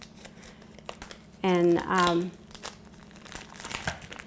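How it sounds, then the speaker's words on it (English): Scissors cut into a plastic food packet for a Cajun-style Hopping John, giving a short burst of crinkling and snipping while a person talks. "all you have to do here is just use scissors to get into your packet"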